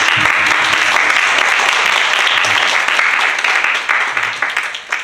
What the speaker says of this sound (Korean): 우리 고3 학생들 수고했다고 우리 격려하는 박수 한번 하도록 하겠습니다